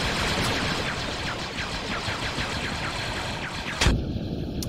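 Distant gunfire in a Squad Star Wars mod battle pops in rapid, fairly soft bursts over a steady noisy background, ending in one sharp, louder crack near the finish.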